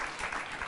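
Studio audience applause on a late-night comedy talk show, a short burst of clapping that stays steady and moderately loud for under a second.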